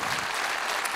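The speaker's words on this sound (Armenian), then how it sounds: "եկեք մի հատ ծափարենք մեր մայստրոյին" Audience applause for a duduk maestro at a live concert, a dense, steady burst of many hands clapping at once, loud and close throughout, with no talk over it.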